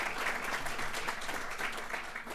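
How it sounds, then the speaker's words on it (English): Brief, steady audience applause at the White House Summit on Biotechnology and Biomanufacturing greets the panel, a dense wash of clapping from a sizable crowd with no speech over it. "Let's do another round of applause for the panel."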